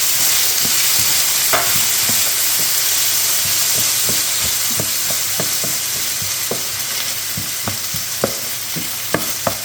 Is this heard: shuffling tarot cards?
no